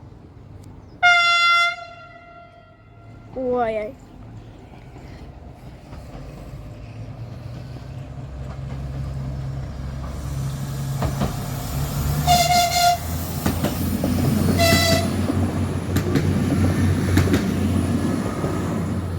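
A passenger train horn sounds twice, then the train rumbles past nearby through a level crossing in Wałcz, Poland, with a steady roar, punctuated by more horn blasts and metallic clatter.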